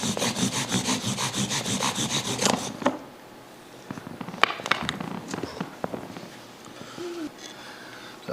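Bow drill friction fire: a rapid back-and-forth rasp of wood spindle grinding into a wooden board using the full bow length, rhythmic strokes for a few seconds, then scattered softer scrapes, clicks and handling noises.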